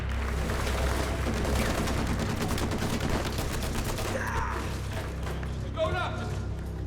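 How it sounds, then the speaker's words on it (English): Gunfire in the video game Uncharted 4: A Thief's End, with steady bursts of shots and impacts running throughout, dense and continuous, mixed with game music and effects and some voice in the background. "Just follow the sound of gunfire."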